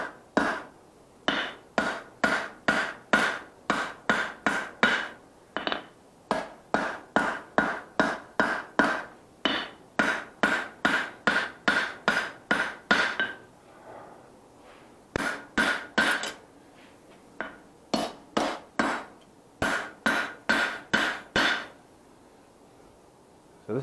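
Rapid bursts of sharp metallic hammer blows ring out as a straight peen hammer forges a paring knife blade, struck in quick runs of strikes separated by brief pauses, loud and close.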